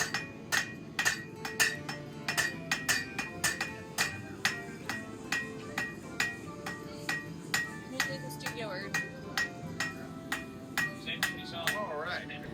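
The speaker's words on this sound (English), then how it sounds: "took turns pounding the anvil for each of our orders" Sharp metallic strikes ring out in a steady, repeated rhythm as hammers pound an anvil at a Renaissance fair, with a low murmur of voices underneath.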